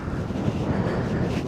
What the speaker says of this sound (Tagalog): Tingnan yung hampas ng hangin.